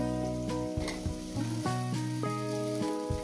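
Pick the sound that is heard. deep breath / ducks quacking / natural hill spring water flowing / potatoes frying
potatoes frying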